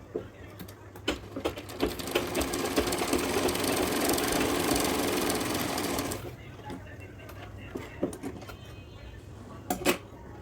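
A sewing machine double-stitches the side seam of a salwar, running in a sustained loud burst of rapid needle clatter for several seconds, with short starts and stops around it.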